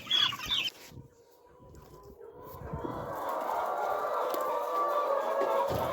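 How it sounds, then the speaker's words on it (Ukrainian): Chickens cluck and murmur steadily at moderate distance, with a brief rustling burst at the start before the flock's chatter fills the rest. "Сходимо до курей."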